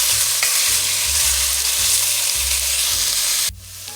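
Onion sautéing in a pan over medium heat, a loud, steady sizzle and crackle with stirring, cutting off sharply near the end.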